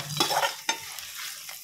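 A spoon stirs oil tempering with curry leaves into rice for pulihora in a pan, a few quick close scraping strokes over a faint sizzle.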